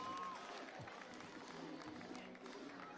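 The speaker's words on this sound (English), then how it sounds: "How about a big hand for him, everybody" A crowd at a junior bull riding event in Mackay, Australia claps and cheers steadily for a young rider, with a broadband wash of applause running through the full stretch and an announcer faintly audible over it.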